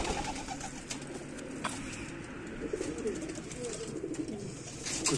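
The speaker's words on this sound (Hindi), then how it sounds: "जंगली कबूतर भी उड़ रहे हैं।" Wild pigeons cooing softly amid a low, steady background hum, with occasional faint chirps; no voices.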